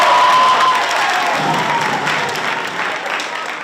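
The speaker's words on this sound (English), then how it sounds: "let's get a round of applause for Johnny right" School assembly audience applauding for a student, with a cheer near the start: a loud burst of crowd clapping that gradually softens, with a few voices mixed in.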